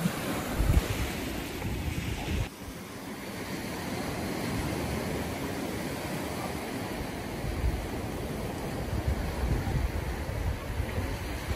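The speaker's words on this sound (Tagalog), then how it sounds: "Papunta rito ang alon." Ocean surf washes in continuously at Ubara Beach, Japan, a broad roaring hiss of breaking waves with wind buffeting the microphone throughout.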